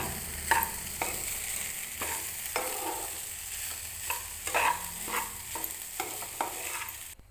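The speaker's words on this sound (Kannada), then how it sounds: "ರೈಸ್ ಹಾಕಿದ್ದೀನಿ ಈಗ ಚೆನ್ನಾಗಿ ಮಿಕ್ಸ್ ಮಾಡಿಕೊಳ್ಳುವ" Rice being stirred and mixed in a lightly oiled pan for chitranna, heard as a soft steady hiss with repeated scraping strokes of a spatula at an even rhythm, close and without talk.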